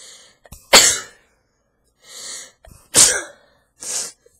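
Several sharp sneezes, two of them loud and close, with softer breathy bursts between them.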